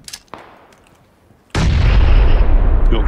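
A grenade explodes in PUBG: after a few faint clicks and thuds, a sudden loud deep blast hits and rolls on as a heavy sustained rumble.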